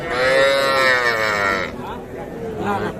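Young calves at a cattle market give close, loud drawn-out moos, one long call followed by a shorter, fainter one.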